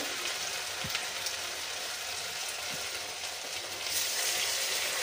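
A batch of sabudana vada deep-frying in hot oil over low heat, a steady close hiss and crackle with a couple of faint pops, no talking.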